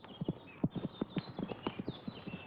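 Horse hooves clip-clop at a steady walking rhythm, close and distinct, with a faint high whine lingering in the background and no talking.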